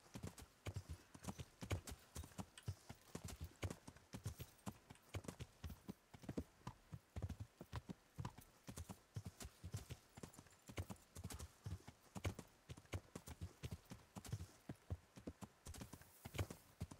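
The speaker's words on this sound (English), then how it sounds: "You weird little horse." Horse hooves clip-clop steadily in the medieval game Kingdom Come: Deliverance, a close, rhythmic run of hoofbeats that lasts throughout with a brief whinny and no talk.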